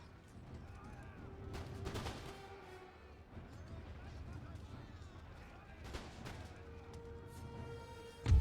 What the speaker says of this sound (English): At least you got one volley off.